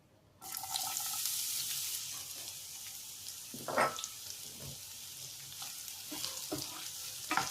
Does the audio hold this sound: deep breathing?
no